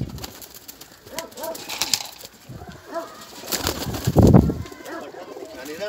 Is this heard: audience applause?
no